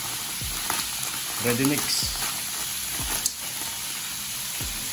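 Frozen mixed vegetables fry in a hot pan with a steady, close sizzle, broken by a few stirring scrapes and a brief louder burst of hissing; a voice speaks briefly over the cooking.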